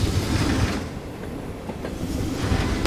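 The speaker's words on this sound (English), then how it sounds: "the night train coming through!" A night train rolls along its rails with a steady, close rumble and rhythmic clatter of wheels, broadband and continuous throughout, with no voices.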